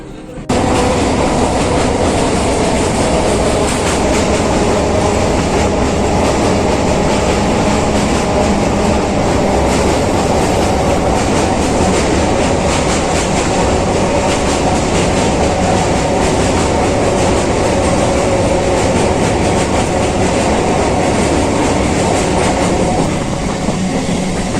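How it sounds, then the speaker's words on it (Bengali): A Naihati–Bandel local train runs at speed, a loud continuous rumble and rattle of carriages on the rails heard from inside, steady throughout. "চলুন, আমাদের ট্রেনও ছেড়ে দিল।"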